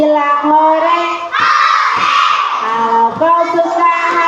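A group of children shout "hooray" together in a loud, chanted burst, voices rising into a sustained collective cry between stretches of sung, rhythmic group speech.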